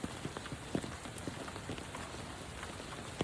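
Steady rain patters down during a honey bee package installation at a house in Walnut Creek, with scattered close drop hits over a continuous wet hiss.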